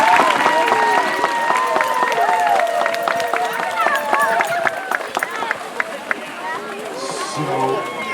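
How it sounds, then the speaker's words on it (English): Applause and cheering from guests at a swim team's end-of-year party, a steady wash of clapping with voices layered over it and a few sharp whistle-like calls throughout. "let's give another round of applause to all those individuals"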